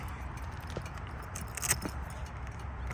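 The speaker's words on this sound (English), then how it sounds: "let me get the keys." A set of keys jingles and clinks as it is picked up beside a 2021 Harley-Davidson Fat Bob fitted with lockable SW-Motech Legend Gear saddlebags, a few bright metallic rattles over quiet background noise.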